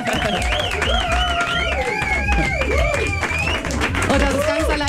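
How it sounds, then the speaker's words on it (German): A studio crowd applauds and cheers at the finish of a 70-hour Radio Köln radio marathon, a steady wash of clapping with loud whistles gliding over it and voices mixed in throughout. "Und das ist ganz allein euer Applaus."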